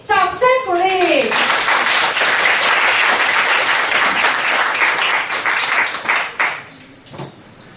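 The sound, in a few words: audience applause at a concert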